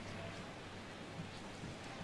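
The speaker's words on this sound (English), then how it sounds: "the rain continues to fall here" Steady rain falls in the MLB The Show 16 baseball video game, a soft constant hiss that stays even throughout.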